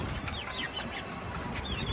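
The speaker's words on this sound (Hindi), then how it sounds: "और ये मेरा मुर्गा बहुत ही प्यारा" Soft clucking and chirping from a rooster and hens over a steady noisy background, with a few brief higher calls scattered through.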